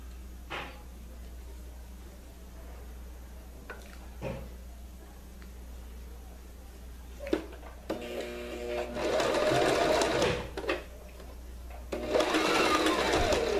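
Sewing machine stitching a folded dish towel, quiet handling and faint fabric rustle at first, then loud bursts of motor whir and rapid needle chatter in two long runs, near and alone.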